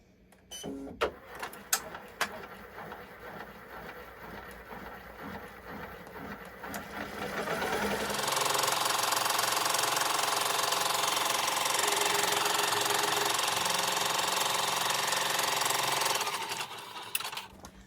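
An embroidery sewing machine sews a placement stitch on fabric in the hoop, starting with scattered clicks and taps before settling into a loud, steady, rapid stitching hum that runs for several seconds and then stops.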